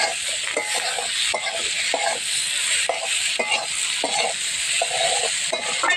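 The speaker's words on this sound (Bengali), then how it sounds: "ধনের গুঁড়ো, জিরার গুঁড়ো, সব মশলা একবারে দিয়ে ভেজে নেব।" Chili, coriander and cumin powders fry in a pan, a bright continuous sizzle broken by rhythmic scraping strokes of a stirring spoon roughly twice a second, close and clear.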